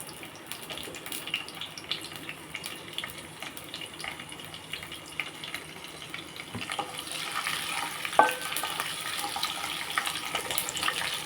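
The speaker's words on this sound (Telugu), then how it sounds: "ఇదిగోండి మినపప్పుని శనగపప్పు వేస్తున్నాను" A soft, watery sizzle builds and grows louder partway through as urad dal and chana dal hit hot oil for tempering, with occasional clinks of a utensil.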